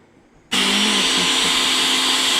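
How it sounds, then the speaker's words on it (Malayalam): A mixer grinder starts abruptly after a short quiet moment and then runs loud and steady, whirring as it blends drained cauliflower for thoran. "ഊറ്റിയെടുത്തിട്ട് ഒന്ന് മിക്സിയിലിട്ട്"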